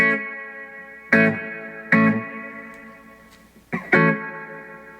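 Guitar through an Analog Alien Rumble Seat reverb pedal: a few separate strummed chords, each struck sharply and then washing out in a long reverb tail, played close with gaps between strums.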